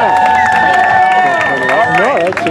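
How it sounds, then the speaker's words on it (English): At a women's race medal ceremony, a crowd cheers and claps for the third-place Kenyan runner, with loud whoops and shouting voices over scattered applause. "Give her a round of applause"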